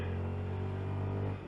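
Steady low engine drone from a 2022 CF Moto 300SR single-cylinder motorcycle, holding an even rev level close by with no talk, tapering slightly at the end.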